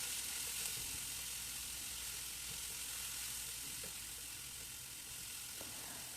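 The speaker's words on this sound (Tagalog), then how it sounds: "Magprito ko garlic" Garlic frying in a pan for garlic rice, a steady close sizzle with soft hiss throughout and faint occasional clicks of stirring.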